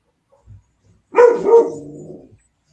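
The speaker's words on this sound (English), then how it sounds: "hang on, my dog's barking" A pet dog gives one loud, close bark that trails into a short whine, after a faint thud, in an otherwise quiet room.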